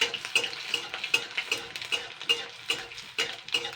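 Rice pakora balls frying in a kadai of hot refined oil, a steady sizzle broken by repeated light scraping and stirring clicks at an even pace, close and moderately loud, with no voices.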